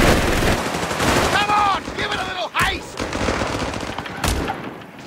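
Heavy machine gun team firing in the video game Company of Heroes 3, loud rapid bursts of automatic gunfire over battlefield rumble, with a brief shouted soldier voice in the middle.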